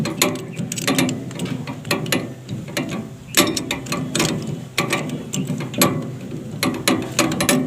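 A die is fitted and tightened into a fan winding machine, producing repeated close metallic ratcheting clicks and clanks in an uneven rhythm.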